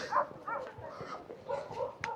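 Sled dogs at a dog sledding outing bark and yip in a faint, busy chorus from a short distance, with overlapping calls and a sharper yelp near the end.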